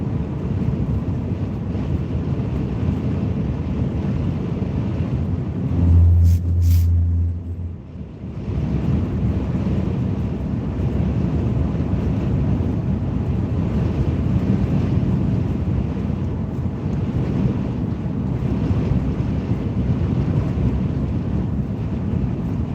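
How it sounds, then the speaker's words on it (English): Strong wind buffeting the microphone with a constant low roar, broken briefly by a short tonal hum before the gusting noise resumes. "A little bit windy at the least"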